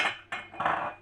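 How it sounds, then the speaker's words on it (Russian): Salt is poured onto a dry frying pan in a home kitchen, giving a few short, close gritty rattles in quick bursts. "Высыпаем соль на сухую сковородку,"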